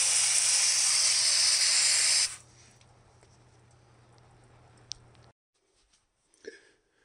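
Water rinsing a polished Alvord Desert rock: a loud, steady hissing spray that cuts off sharply, followed by a quiet running trickle, then near silence broken by a couple of small knocks.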